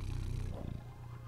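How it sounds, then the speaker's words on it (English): A cat purrs right against a microphone, producing a loud, close, rumbling drone that continues steadily, with a slight swell partway through. "Do you hear him purring?"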